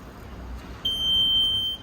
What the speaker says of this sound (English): press and hold the button here until you hear 1 beep